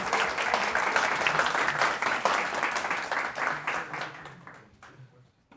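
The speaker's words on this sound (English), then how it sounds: "Can we clap now?" An audience claps after a tech talk on gRPC for iOS, dense applause that carries on for several seconds, then thins out and fades to a few last claps.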